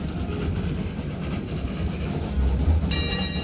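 Trains run along the rail network in the puzzle game Train Valley, a steady low rumble and rattle of carriages with a brief bright whistle-like tone at the end, no talking.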